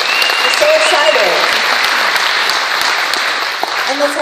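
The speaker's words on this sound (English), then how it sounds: "Let's give a clap" A church congregation breaks into sustained applause, a dense crackle of many hands clapping together that stays loud and steady throughout, with some faint voices mixed in.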